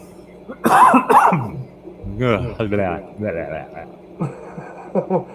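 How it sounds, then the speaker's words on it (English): Two sharp coughs near the start, close and loud, followed by people talking. "It was a cough with bits in it."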